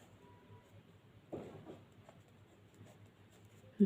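A pen scratches softly on paper as someone writes out the answer to a class 9 geometry question, with quiet strokes and a short burst of heavier writing partway through and a louder bump at the end.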